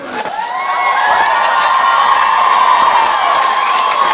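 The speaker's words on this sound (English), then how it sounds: "Why are you applauding?" Comedy club audience at a stand-up show cheering and whooping loudly, a steady roar of crowd noise held for several seconds with no speech over it.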